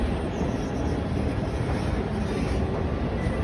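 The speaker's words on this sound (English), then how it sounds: "Trains go above you and below you at this station." Trains rumbling through a multi-level station with tracks above and below, a steady broadband roar that stays loud and even throughout, with some wind buffeting the microphone and no talking.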